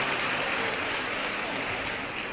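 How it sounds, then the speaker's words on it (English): Audience applause for the mayor at a youth empowerment gathering, a steady, dense wash of clapping that holds at an even level for the whole stretch without a break. "Can we please give them a round of applause?"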